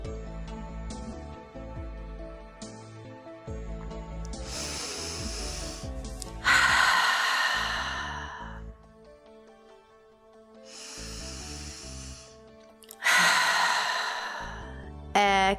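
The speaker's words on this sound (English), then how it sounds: "Just keep breathing in and out to your maximum." Deep yoga breathing during a posture session, several long, audible inhales and exhales in slow alternation, close and breathy, heard over a soft, sustained musical background.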